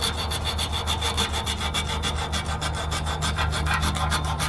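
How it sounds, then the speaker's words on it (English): Abrasive scuffs back and forth across a brake shoe on a Gen 2 Toyota Tundra, a rapid, even rasping stroke rhythm, close and steady throughout. "So I'll just do the whole shoe, just scuffing up the surface one way."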